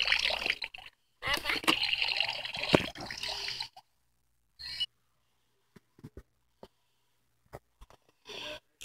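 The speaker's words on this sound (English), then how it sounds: "it's the toilet that makes the noise." A toy ghost toilet plays its electronic sound: a few seconds of gurgling, watery noise, then scattered short clicks and blips with quiet gaps between them.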